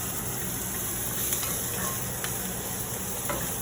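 Onions fry in a hot, smoking pan, giving a steady, close sizzle with occasional small pops and no talking.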